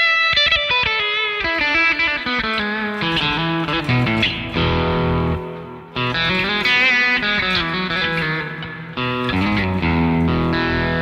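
Electric guitar played through the Blue Cat Re-Guitar plugin set to a hot rail pickup emulation, a continuous driven, effected riff with sustained chords and quick single notes, loud and alone throughout.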